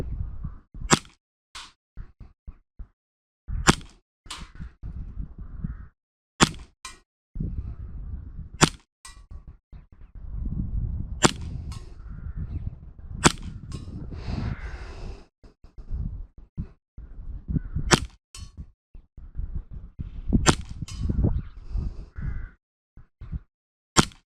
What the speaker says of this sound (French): je tire sur une cible à taille d'une tête humaine et je suis à 25 mètres, hein, et ça touche